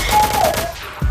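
Rapid video game gunfire bursts crackle loudly through the first half, fading out before a single low thump near the end, with no talk over it.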